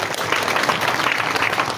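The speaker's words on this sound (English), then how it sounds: "Please give her a big hand clap as she comes." Steady, dense applause from an audience greeting an awardee at a ceremony, a continuous even wash of many hands clapping with no talk over it.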